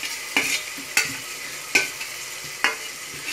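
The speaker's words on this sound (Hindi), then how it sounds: "जैसे ही ऑयल थोड़ा गर्म हो गया, उसमें हम हरे मसाले की चटनी डालेंगे" Oil crackles and sizzles steadily in a pan as green coriander, chili and garlic chutney is added, with a few sharper spits and pops standing out every half second or so.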